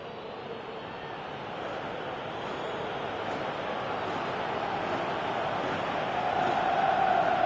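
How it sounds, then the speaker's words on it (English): A football stadium crowd at a Chelsea match reacts to a near miss with a sustained roar, a broad wash of many voices that swells gradually louder toward the end, heard from a distance. "you can hear how the crowd are reacting to this too."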